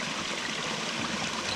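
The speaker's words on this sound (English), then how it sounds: "there's more tranquil sound than that of the water flowing down the rocks of a mountain stream" Mountain stream in Alabama woods, water flowing and splashing down over rocks in a steady, close, continuous rush with no voices.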